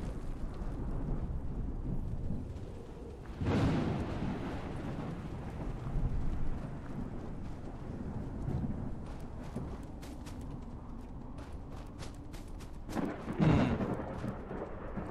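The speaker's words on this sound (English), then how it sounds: "for all this mist and rain and stuff" Rain patters continuously in the game Fallout 4 while two deep rumbles of thunder roll through, one near the start and one near the end, with no talk.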